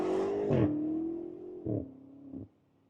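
A BMW M8 Competition's 4.4-litre V8 rumbles at a steady idle, then blips sharply three times in quick succession, each rev rising and falling before the engine settles back, close and loud with no talk.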